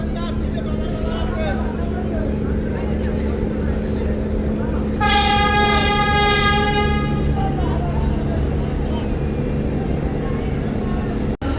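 A passenger launch pulls away from the Barishal river ghat on an Eid holiday run, its deep horn blaring for about two seconds partway through. A steady engine rumble and crowd chatter from the dock continue underneath.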